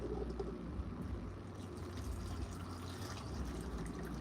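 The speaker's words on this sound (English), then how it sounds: "You want to rinse those beans off" Hot water running over red beans during rinsing, a steady faint gush and splash of liquid with no pauses, close by and without talk.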